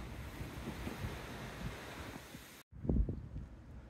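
Strong tailwind buffets the microphone during a packraft float down the regulated, straight stretch of the Rudava River, a steady broadband roar that cuts out briefly and then returns in a heavier gust.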